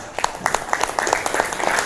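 A classroom of students applauding on request, a short burst of dense, fairly close hand claps with a few individual claps standing out.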